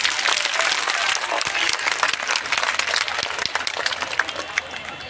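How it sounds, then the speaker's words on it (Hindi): Sustained applause from a seated audience at the Lati Mahotsav festival, dense steady clapping lasting throughout, with a few faint voices mixed in. "एक बार जोरदार ताली बजाइए लास्ट तक।"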